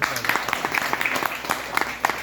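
An audience at a Bitcoin trust meeting in Ranchi, Jharkhand, claps in a brief burst of uneven, moderately loud hand claps, with some talk mixed in underneath.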